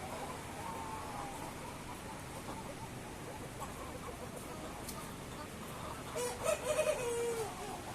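Chickens in a poultry yard in Tamil Nadu, heard faintly with a brief clucking call near the end under a person talking.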